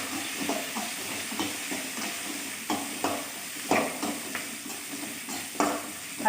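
Garlic and curry leaves sautéing in a hot pan, a steady soft sizzle broken by repeated scraping stirs and clatters of a utensil, with no voices.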